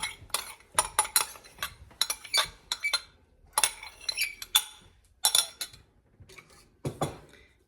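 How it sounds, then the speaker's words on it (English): A spoon works through cheeseburger soup in a pot, giving a run of close, sharp metallic clinks and scrapes in irregular bursts against the pot's sides, with brief pauses between strokes and no talking. "Give that a good stir."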